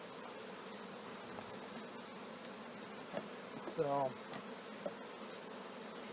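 Bees buzz continuously around a honey super hive, a faint, steady insect drone with one bee passing close, and a voice briefly speaks.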